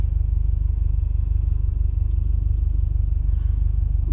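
A 2011 Subaru Impreza WRX hatchback drones steadily while driving, its engine and exhaust giving a constant low rumble heard from inside the cabin, with no talk.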